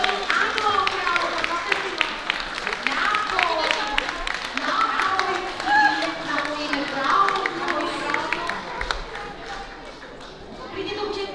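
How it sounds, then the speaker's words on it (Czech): Audience applause welcoming preschool children at a kindergarten event, steady clapping from a crowd lasting throughout, with voices and chatter mixed in. "pojďme přivítat potleskem"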